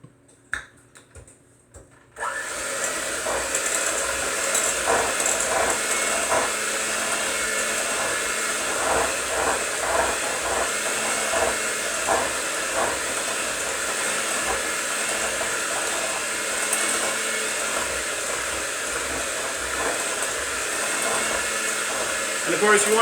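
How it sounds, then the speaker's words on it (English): Electric hand mixer whirs steadily after a brief quiet start, beating eggs into sugar for sugar cookie dough, a continuous loud motor drone with faint scraping against the bowl. "start mixing it into the sugar here"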